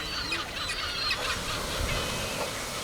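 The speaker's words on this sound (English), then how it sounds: "a fight begins between the gulls and some hungry sea lions." Harsh, honking squawks of kelp gulls fighting sea lions overlap in a noisy outdoor scene, several birds calling at once in an agitated jumble.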